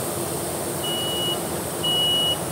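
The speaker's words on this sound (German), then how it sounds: "So, jetzt macht er ein bisschen Alarm." Electronic beeping alarm from a woodworking machine running at the LIGNA trade fair, two steady high-pitched tones, one near the middle and a longer one toward the end, over constant hall and machinery noise.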